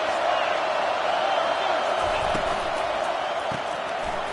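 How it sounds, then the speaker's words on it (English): A large stadium crowd in the video game College Football 25 roars continuously in a dense, steady wash of noise, with occasional thumps underneath. "This crowd bringing the energy and noise early."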